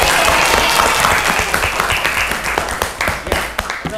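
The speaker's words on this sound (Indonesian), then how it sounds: "ya, tepuk tangan" Classroom or quiz audience applauding a correct answer about Islamic history: a loud burst of clapping from a group, dense at first, then thinning into scattered claps near the end.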